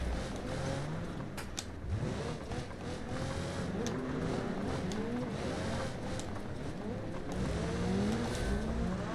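A diesel car in BeamNG, a video game, revs hard and continuously with a gravelly rumbling engine tone, pitch sweeping up and down through repeated accelerations, with scattered clunks and tire noise over a steady dense roar.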